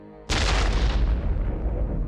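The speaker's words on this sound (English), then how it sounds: "it drives a firing pin into a detonator, setting off an explosion" A single deep explosion from a detonator-triggered device bursts in suddenly, loud and booming, then rumbles and decays slowly over a couple of seconds.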